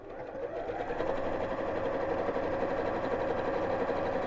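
A sewing machine runs a short, narrow zigzag stitch on interfacing, its motor giving a steady, close, continuous whir for several seconds with no pauses and no voices.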